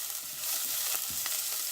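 Onions sautéing with curry leaves and turmeric powder for okra curry, a soft continuous sizzle with light stirring scrapes, close but fairly quiet, no talking.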